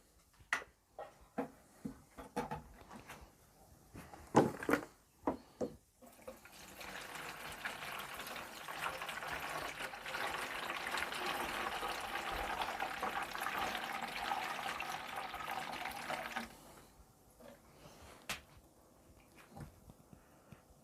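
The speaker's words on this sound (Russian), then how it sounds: "Давайте зальем воды." Water is poured into a Xiaomi Smartmi Evaporative Humidifier 2, a quiet, steady splashing stream lasting about ten seconds, framed by soft clicks and handling knocks before and after.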